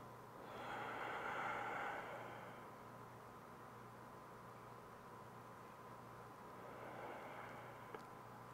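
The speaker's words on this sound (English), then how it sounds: "Breathe deeply here." Deep breathing during a yoga pose, one slow audible inhale-exhale swelling early and another softer breath later, faint and close against a quiet background hum.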